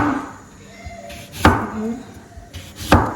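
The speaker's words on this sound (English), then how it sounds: "We are done with the cutting of our plantain. This is the last one that we are cutting." A knife slices through plantain, two sharp chopping impacts about a second and a half apart, close and crisp, with faint background noise between them.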